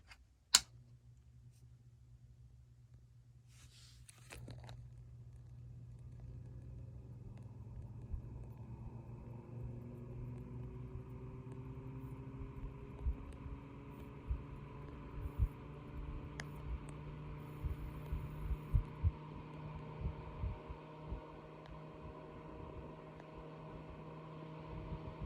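A RadioShack cooling fan switches on with a click and winds up, its hum rising steadily in pitch into a constant whir with faint ticking and rattles as it keeps running.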